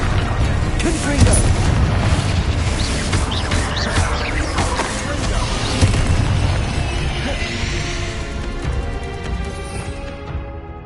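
Confringo fire-spell explosions in Hogwarts Legacy, several booming blasts and bursts layered over busy combat noise, loud and close, tailing off toward the end.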